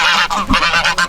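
Several geese honking loudly and close in a rapid, repeated series of harsh calls, with no talking.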